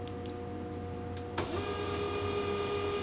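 A desktop printer printing a four-page stained glass tile pattern whirs steadily at close range, with a sharp mechanical click as the feed engages and a continuous motor hum afterward, no talking.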